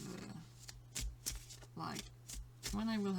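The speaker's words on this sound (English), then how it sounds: "I'm just shuffling just to show that I haven't selected the cards beforehand" A deck of tarot cards is shuffled in several quick, crisp riffle bursts at close range, separated by short pauses, while a person talks over parts of it.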